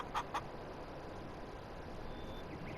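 Two short clucks from chickens and roosters in a coop in Farming Simulator 22 stand out early, followed by a steady ambient farm hum with no further calls.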